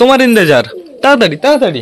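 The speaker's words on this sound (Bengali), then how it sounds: "আমাদের নতুন পায়রাটা ঘরে চলে এসছে, নতুন পায়রাটা একদম লক্ষ্মী পায়রা গাইজ। দেখো ঘরে এসে পুরো ডাকাডাকি স্টার্ট করে দিয়েছে।" A pigeon kept indoors as a pet coos and calls in short, close bursts, with a voice speaking over and between the calls.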